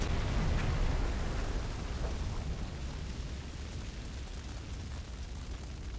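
A torpedo strikes a steam passenger ship in the submarine game Silent Hunter 5, giving a deep rumbling boom that swells at the start and then rolls away into a long, fading low roar.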